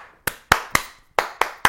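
A series of six sharp hand claps in an irregular rhythm, close and fairly loud, each clap crisp and separated by short pauses, with no voices.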